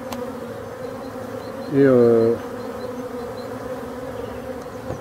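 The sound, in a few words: bees buzzing at the hive carrying pollen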